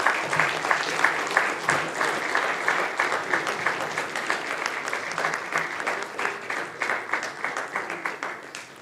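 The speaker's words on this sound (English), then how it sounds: "Please give a huge round of applause for this." A hall audience at a conference prize-giving applauds at length, with lively, fairly close clapping that pulses in quick, uneven bursts and carries on for nearly nine seconds.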